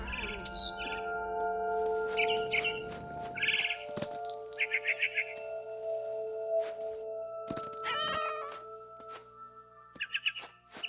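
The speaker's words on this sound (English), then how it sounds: "Then I heard chirping outside my window. It was a barn swallow going back to her nest." Barn swallow chirping in the video game What Remains of Edith Finch: several short bursts of high twittering calls scattered over sustained tonal game music, with a few clinking accents.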